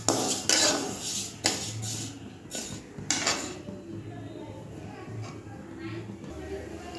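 Dal dry-frying in a hot kadai, stirred with a metal utensil, giving sharp clattering scrapes and clinks, loud over the first few seconds, then quieter, with a faint hiss.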